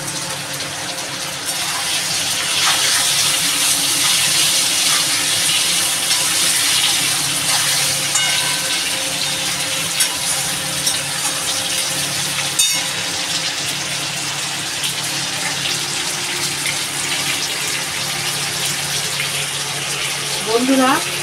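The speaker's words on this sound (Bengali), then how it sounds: "আলুগুলো ভাজবো ভালো করে" Salted potato pieces fry in a pan for a Bengali rohu fish and potato curry, giving a steady, loud, close sizzle that runs unbroken from start to finish.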